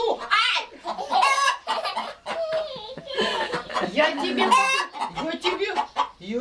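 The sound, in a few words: chicken in a henhouse clucking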